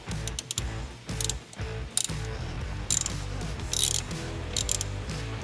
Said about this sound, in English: now this is where your ratchet is gonna come in handy